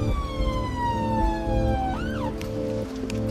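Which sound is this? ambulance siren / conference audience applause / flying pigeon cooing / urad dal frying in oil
ambulance siren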